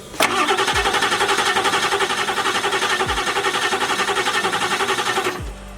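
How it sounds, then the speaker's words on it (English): A swamped diesel truck engine cranks over with no oil in it, a steady rhythmic starter churn lasting several seconds without firing, loud and close, stopping abruptly at the end. "crank the truck over for like 10 seconds with no oil in the engine"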